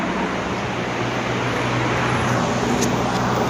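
Jaguar F-Type engine running just after starting, under investigation for a misfire with fuel rail sensor over-injection and black smoke, a steady loud broadband roar with a constant low hum and no talk.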